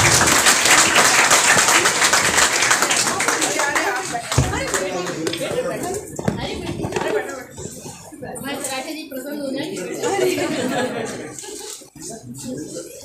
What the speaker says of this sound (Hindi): तालियां बजाकर एक बार सम्मान दे लीजिए